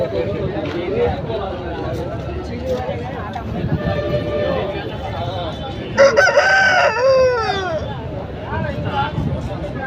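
A Setuva rooster at the Rayachoti livestock market in Kadapa district gives one loud crow midway through, over a steady crowd babble and nearby talking.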